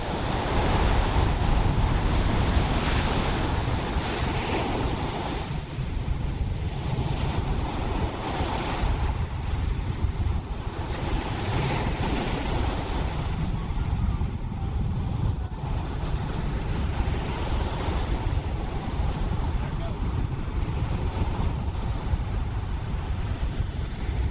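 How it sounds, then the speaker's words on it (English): Ocean surf breaking on a beach at the Gulf of the Farallones at sunset, a steady continuous roar of waves with wind buffeting the microphone and no voices throughout. "this is the Gulf of the Farallones from a different perspective, from a beach during sunset"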